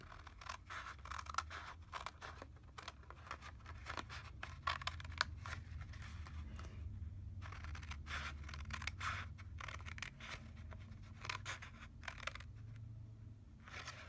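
Scissors cut through scored cardstock while a paper lantern is being made, giving quiet close snips and paper rasps in an irregular rhythm with short pauses and no talking.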